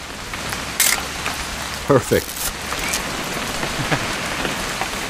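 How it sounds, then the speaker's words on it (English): Steady rain in the video game What Remains of Edith Finch hisses evenly throughout, with a few brief louder knocks and a short spoken word over it. "It's going to rain the whole weekend, isn't it?"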